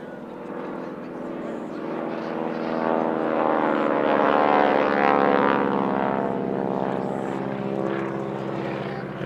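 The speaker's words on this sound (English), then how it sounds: "Here we see the Aero Superbatics Wingwalkers." Propeller plane of the Aero Superbatics Wingwalkers flying an airshow display at the Midlands Air Festival, a steady droning engine that swells louder in the middle and stays close throughout, no talk over it.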